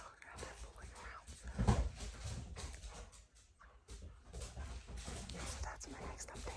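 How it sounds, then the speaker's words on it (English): Dogs fool around and play outside at a distance, with scattered soft whimpers, scuffles and bumps under a quiet, low voice. "The dogs are out there fooling around,"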